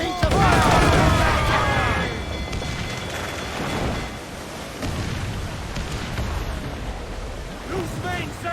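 Heavy booming cannon fire from a pirate ship's broadside in Assassin's Creed IV: Black Flag, a loud cluster of blasts at the start that gives way to rumbling battle noise and shouted voices.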